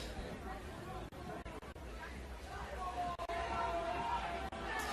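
A crowd of team supporters at a rugby match, Lindenwood University against Life University, keeps up a steady murmur of chatter and babble, with a few brief dips in the noise.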